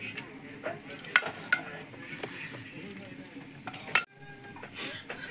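Country chicken with fried potatoes being stirred in a clay pot, with irregular scrapes and knocks of the spoon over a gentle sizzle, close by, and a brief pause near the end.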